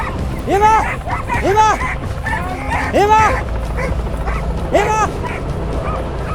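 A K9 tracking dog barks and yips in loud, close bursts, several sharp barks spaced across the stretch with whimpering between them, while handlers talk nearby outdoors.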